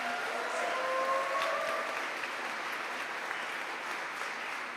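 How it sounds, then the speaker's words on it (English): An audience at a community town hall held in a Methodist church applauds in a sustained, even patter of many hands clapping, moderately distant and continuing steadily throughout. "Can we get a round of applause for them?"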